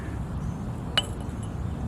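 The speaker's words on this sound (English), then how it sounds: "Put the tequila down right here." A small glass bottle of tequila set down at a graveside, one sharp clink against a hard surface midway through an otherwise quiet outdoor background.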